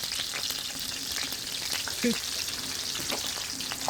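Fish fries in hot oil over a barbecue, a steady loud sizzle with faint stirring scrapes and small pops throughout.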